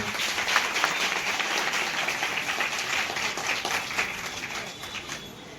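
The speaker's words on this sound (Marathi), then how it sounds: "नंदवे भाऊंसाठी एकदा सगळ्यांनी जोरात टाळ्या वाजवा." An audience claps for a worker at an appointment-letter ceremony in Latur, giving steady, dense applause from many hands that holds throughout and tapers slightly at the end.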